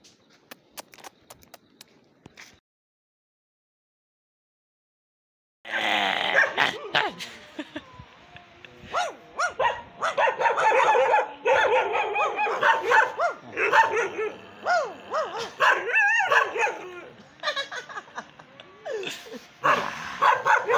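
Dogs at a hillside home beside a maize field bark repeatedly and close by, in loud rapid bursts mixed with yips, after a brief quiet stretch.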